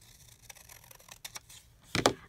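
Scissors cut down an antique paper postcard tag in a few quiet, crisp snips spaced unevenly, with a louder double snip near the end.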